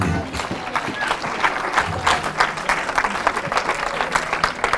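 A church congregation applauding, dense continuous clapping with crowd noise filling the room at a steady, fairly loud level.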